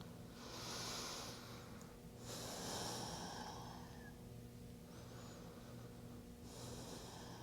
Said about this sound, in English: Most important thing that you're doing is breathing.